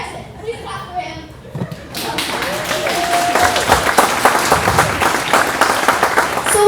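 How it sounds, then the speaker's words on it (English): Family members applaud to welcome a new member at a loud family gathering; the clapping rises after a quiet start and continues as a dense patter, with voices talking over it. "Please clap for him."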